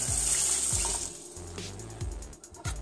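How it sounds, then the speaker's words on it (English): Water poured from a measuring cup into a pot holding two cups of rice, a steady splashing fill that trails off near the end, close and moderately loud with no talk. "So we have 2 cups of rice, so add 2 cups of water."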